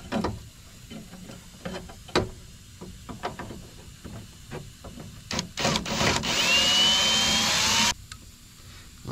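Old rivets are worked out of a window regulator bracket from a 1999-2004 Mustang. Close sharp clicks and knocks sound at irregular intervals, then a loud sustained whirring tool burst runs for about two seconds.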